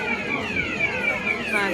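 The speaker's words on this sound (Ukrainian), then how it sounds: "Пустили дим, спрацювала пожарна сигналізація." A fire alarm goes off inside a concert hall in Prague after smoke is released, giving a steady, repeatedly sweeping electronic wail that fills the room while an audience murmurs beneath it.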